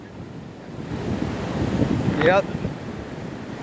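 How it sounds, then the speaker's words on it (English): Big ocean surf during Tropical Storm Fred, heard as a continuous roar of waves mixed with heavy wind buffeting the microphone, while someone speaks briefly over it. "I had fun swimming them big old waves"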